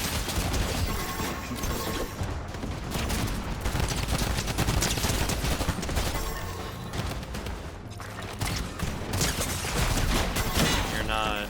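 Rapid video-game gunfire from Fortnite weapons fitted with attachments, dense sustained bursts and volleys filling the whole stretch with barely a pause, loud and close, with faint voice traces mixed in.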